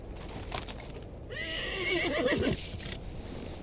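A horse whinnies loudly in the PS1 game Koudelka, a rising and falling neigh lasting about a second, set against a steady rumbling background with faint hoof-like thuds around it.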